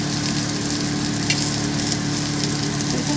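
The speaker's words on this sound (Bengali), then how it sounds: "এইভাবে আমি তেলের মাখন দিয়ে ভেজে নিয়েছি।" Chicken cheese kebabs fry in butter on a gas stove, giving a dense, continuous sizzle that stays steady and fairly loud up close, with no voices over it.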